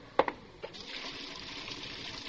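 Hot water running from a kitchen tap, a steady close hiss of flow that begins after a couple of short clinks and continues alone for about two seconds.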